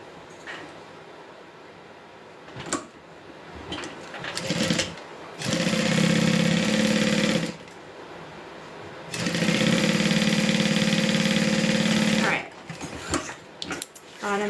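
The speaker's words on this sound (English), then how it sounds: "We're going to sew the bottom onto that." A sewing machine runs in two sustained bursts, each a few seconds long, stitching the bottom onto a Becca Bag, with someone talking in between and handling noises around the stitching.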